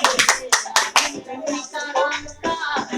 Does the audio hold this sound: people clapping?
yes